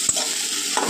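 A spoon stirs boiled, mashed potato masala for masala dosa in a pan, a steady close hiss of frying with two brief scraping strokes.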